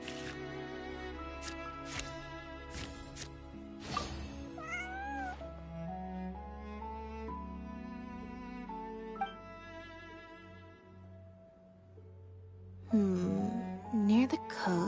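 A cat meows repeatedly in a video game, the cries rising and falling over background game music, with a louder burst of meowing toward the end.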